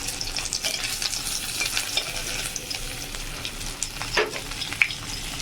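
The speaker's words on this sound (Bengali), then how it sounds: "কড়াই বসিয়ে দিয়েছি, তেল গরম হয়ে গেছে, তার মধ্যে দিয়ে দেব শুটকি মাছগুলো।" Dried fish sizzling and spitting in hot oil in a wok-style kadai, a steady crackling fry with a few sharper pops near the end, close and fairly quiet, no talking.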